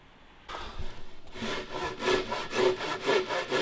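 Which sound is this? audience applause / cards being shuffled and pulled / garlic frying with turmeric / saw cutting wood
saw cutting wood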